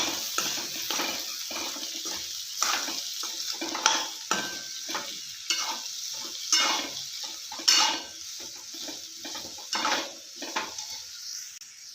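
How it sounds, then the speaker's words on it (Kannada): Cut potatoes being stirred in oil in a pan for a North Karnataka style potato palya, with repeated scraping spatula strokes and clinks over a soft sizzle, close and irregular, no speech. "ಇವಾಗ ಕಟ್ ಮಾಡಿ ಇಟ್ಕೊಂಡಿದ್ದು ಬಟಾಟೊ ಅಥವಾ ಆಲೂಗಡ್ಡೆ ಹಾಕೊಳ್ಳೋಣ ಚೆನ್ನಾಗಿ ಮಿಕ್ಸ್ ಮಾಡ್ಕೊಳ್ಳೋಣ"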